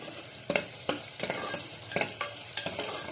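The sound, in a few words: onion frying in pan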